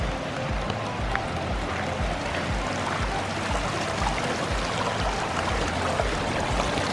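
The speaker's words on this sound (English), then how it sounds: "This is the little stream coming through that usually isn't here." Small stream rushing through a flooded campground along the Boulder River in Montana, with water flowing in from the opposite side; a steady, close, broadband wash and gurgle with no talking.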